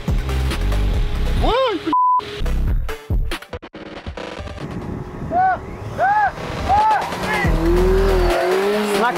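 A drag race start between a Kawasaki Z1000 motorcycle and a Tesla, with engine roar rising in pitched sweeps, wind buffeting the microphone and a voice talking over the run.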